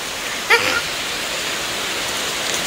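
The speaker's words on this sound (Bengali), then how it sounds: "এখানে বৃষ্টি পড়ছে দেখো" Steady rain falls over a rooftop among city buildings on a cloudy day, a continuous even hiss with a brief voice near the start.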